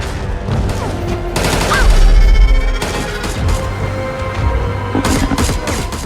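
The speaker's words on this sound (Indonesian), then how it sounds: "Untungnya Nina yang mendengar suara tembakan Will tiba di sana" Heavy gunfire fills a film scene where a soldier is surrounded by monsters, with loud rapid bursts and booming shots repeating over a dense, rumbling backdrop.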